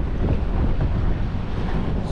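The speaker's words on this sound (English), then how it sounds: "And it's windy." Strong wind buffets the microphone during New Year's Day fishing in January, a steady broadband roar with rolling gusts that runs unbroken for two seconds, with no voices.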